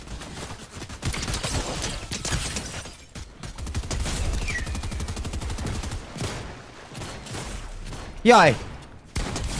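Fortnite gunfire crackles in quick bursts, rapid shots fading in and out under excited talk, with one louder sharp burst near the end.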